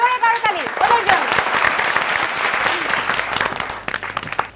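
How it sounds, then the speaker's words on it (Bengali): A studio audience applauds after a dance performance on a Bengali women's quiz game show. The clapping is dense and sustained throughout, with a voice speaking over it at the start and a few louder claps near the end. "আবারও জোরে করতালি ওদের জন্য"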